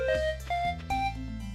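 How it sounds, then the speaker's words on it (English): A short flute block melody from Stardew Valley plays alone, a few clear pure tones stepping from note to note over a low sustained bass accompaniment. "And you can hear when we play it all together, it sounds like this."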